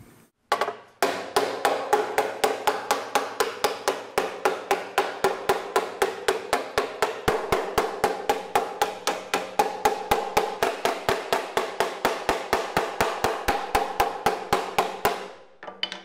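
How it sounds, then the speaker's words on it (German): Hammer blows driving sheet metal into shape for a church spire, a long, fast, even run of sharp metallic strikes close by, roughly four per second, with no talk. "durch Metall treiben, also durch die Hammerschläge, das Material in die Form zu bringen"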